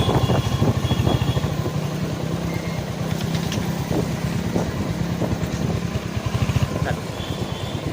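A Royal Enfield Hunter 350 motorcycle rides through city streets in second gear, its steady low engine thump pulsing continuously and close with faint traffic noise around it.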